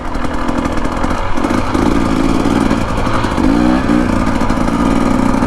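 A 2025 Husqvarna TE250 dirt bike engine runs steadily at quarter throttle and mid revs, a loud close buzzing with uneven, sputtery wavering in pitch partway through.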